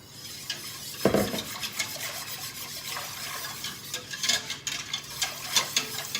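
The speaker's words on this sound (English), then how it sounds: "So you continue stirring it while it comes up to the boil" A spoon scrapes and clinks against a pan while a white sauce is stirred as milk is poured in, with soft liquid swishes and intermittent metallic taps at close range.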